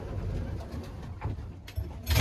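Racing pigeons coo softly in a section of the loft, low burbling calls with rustling and movement around them.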